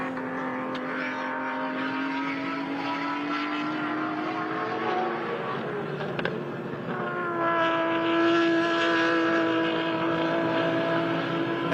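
A race car's RB engine drones steadily for a long stretch at World Time Attack Challenge, its pitch climbing, dipping briefly, then settling into a higher sustained roar with a loud, buzzy exhaust tone.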